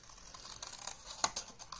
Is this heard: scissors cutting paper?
yes